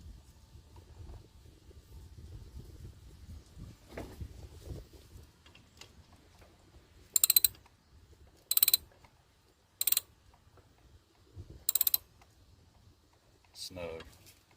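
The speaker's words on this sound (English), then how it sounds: "Finish tightening that with a socket." A 17 mm socket ratchet tightens a bolt on the water pump of a 1994–1997 Ford F250/F350 7.3 Powerstroke diesel. After a low murmur of talk and shop noise, five sharp, close clicking bursts come at uneven intervals.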